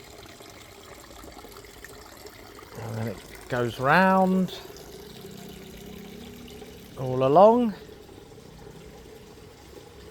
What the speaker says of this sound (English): Always lovely to hear the sound of flowing water there into this pool.